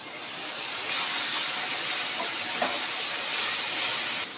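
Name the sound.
ginger garlic paste added to frying onions, sizzling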